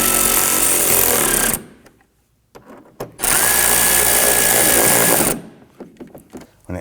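Power driver snugging screws into the front inner fender liner of a 2015-2020 Ford F-150, two loud sustained whirring bursts with a brief quiet gap between and a few short clicks after.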